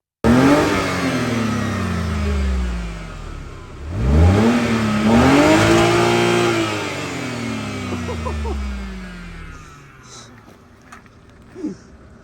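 A BMW engine, which has a fault, revs hard toward its rev limiter. Loud and close, it swells up, falls away, then climbs again in a second strong rev before settling to a lower drone.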